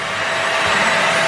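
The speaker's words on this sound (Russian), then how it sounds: "Вот этот профессионалист взял пылесосом и все волосы убрал." A vacuum cleaner sucks up freshly cut hair after a home haircut, its motor whining in a loud, steady, close drone with no pauses or talking.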